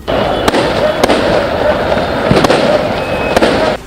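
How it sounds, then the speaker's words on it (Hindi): Fireworks burst over a night street celebration of football club supporters, with sharp bangs at regular intervals over a continuous roar of crowd noise. "जीत का डंका पीटने के लिए उन्होंने इतनी आतिशबाजी की कि रात के अंधेरे में आसमान जगमगा गया।"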